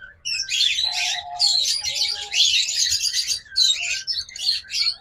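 Several budgerigars chirp and warble in a loud, busy, continuous chatter close by, with no voices.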